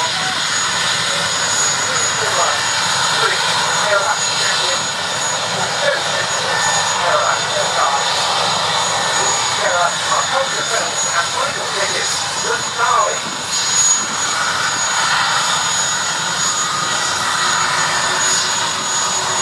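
A Chinook twin-rotor helicopter flying a role demonstration display at the Duxford summer airshow, a steady broad engine and rotor roar held at constant loudness throughout, with crowd voices faintly underneath.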